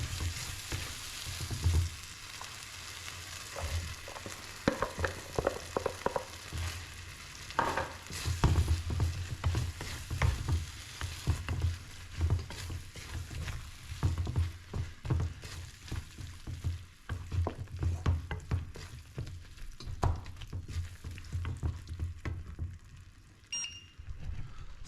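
Vegetables fry in a pan with curried Heinz beans and corned beef hash, a continuous close sizzle broken by frequent scraping and clattering stirs, with no voices.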